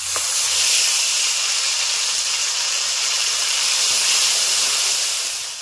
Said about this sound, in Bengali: তেল গরম হয়ে গেছে, দিয়ে দিলাম শুকনো লঙ্কা, গোটা কালো জিরে, দিয়ে দিচ্ছি আদা ও কাঁচা লঙ্কা বাটা